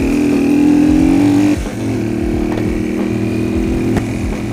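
A Yamaha XT225 motorcycle with its exhaust baffles removed rumbles loudly close by, its engine note dropping as it pulls away and settling into a steady, throaty idle-like drone with no voices.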